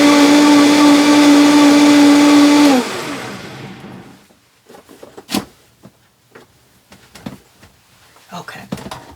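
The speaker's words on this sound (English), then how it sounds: "I do need to blend it because there may be some chunks of coconut that need to get blended down" A blender whirring loudly as it purees honeydew melon and coconut, a steady high motor drone for about three seconds that winds down, followed by knocks and handling sounds with a person talking.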